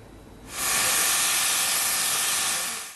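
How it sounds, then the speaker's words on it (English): After a brief quiet moment, a loud steady spray hiss of a final paint coat on a solar-powered bus starts and continues evenly, close by, fading slightly at the end. "Spraying the final coat."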